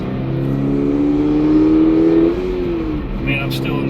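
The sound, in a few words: Subaru BRZ tS engine accelerating after downshift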